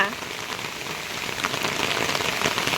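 Rain falls steadily on surfaces during a multi-day spell of rain in Odisha, a dense, even patter close by that grows slightly louder toward the end, with no voices.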